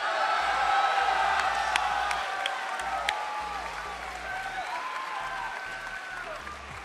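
A crowd at an esports grand finals in Austin claps and cheers loudly, with whoops and shouts over steady applause and some voices mixed in, fading slightly toward the end.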